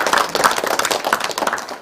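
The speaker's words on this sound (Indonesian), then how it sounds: "Tepuk tangan untuk kita semuanya." A live Islamic religious program audience in a TV studio in Bali claps, a dense, brisk patter of many hands that stays fairly loud and steady throughout, with no voices over it.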